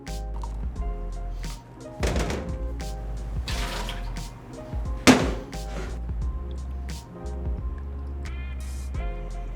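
Water poured into a mug to rinse and preheat it before brewing coffee, with splashing and dripping bursts and a sharp clink near the middle, close and fairly loud.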